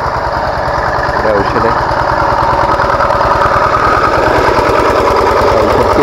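A pesticide sprayer's small engine chugging steadily at close range beside elephant grass, its rapid even pulse running throughout while someone speaks briefly over it.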